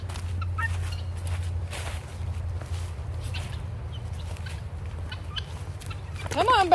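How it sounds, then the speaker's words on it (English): A flock of domestic guinea fowl calls in scattered chattering bursts over a low steady hum, ending with a louder, harsher rising cry close by. "I never expected to be followed around by guineas"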